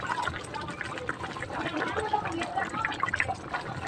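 Three beaten eggs poured into fish sarciado with tausi (salted black beans) in a pan, giving a steady wet sizzle and liquid stirring throughout, with a person talking over it.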